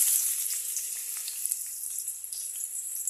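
Chopped onion frying in a little oil in a kadai, a close, steady crackling sizzle with dense tiny pops that eases slightly over the clip, with no talking.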